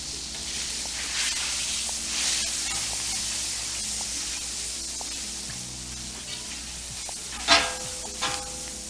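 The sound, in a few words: oil sizzling on a Blackstone griddle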